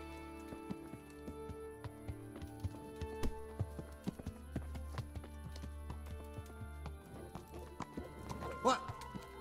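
Horse hooves clip-clopping at a steady trot in Kingdom Come Deliverance, a regular close rhythm over a low ambient bed, with a brief louder burst near the end.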